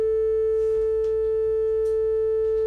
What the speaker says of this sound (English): We're going to fire off 3 test tones.